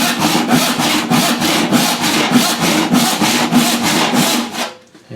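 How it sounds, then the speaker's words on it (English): A hand saw rips wood along a curved line while building a Queen Anne side table, with steady back-and-forth strokes about nine in a row, close and crisp, before stopping abruptly. "the saw is just going to follow the path of least resistance right down that curve"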